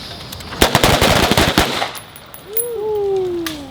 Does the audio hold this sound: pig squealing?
no